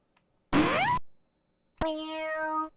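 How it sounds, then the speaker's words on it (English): Two synthetic electronic tones from a Commodore Amiga game: a short rising, meow-like sweep, then a longer steady buzzy tone, both loud and clean against silence. "That sound effect sounds like nothing so much as a cat."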